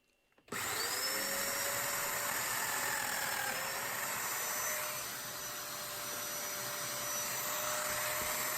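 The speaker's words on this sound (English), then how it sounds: "I can cut the dominoes in the ends of the rails, referencing off the bottom of the domino machine in a simple jig" A domino joiner cuts mortises into the ends of wooden table rails while the tool sits in a simple jig, giving one continuous loud motor whine that starts abruptly and holds steady for several seconds.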